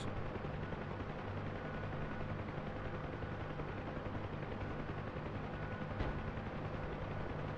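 Rapid gunfire rattles at a UH-1 Huey helicopter in the DCS flight simulator, a dense continuous barrage over a steady rotor drone, with one sharper crack standing out near the end.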